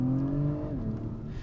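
A 2021 Acura TLX Type S turbocharged engine pulls under acceleration, a moderately loud, rising tonal drone heard from inside the car that shifts pitch partway through the short burst.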